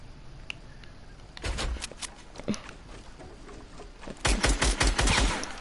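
Gunfire in the video game Fortnite comes as rapid automatic bursts, a short volley followed by scattered single shots, then a longer, louder burst near the end.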